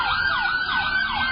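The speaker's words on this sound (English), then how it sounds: "Sirens are blaring." Police car sirens wail loudly and continuously during a chase through a residential backyard, a rising-and-falling electronic tone sweeping in repeated cycles over a low road rumble.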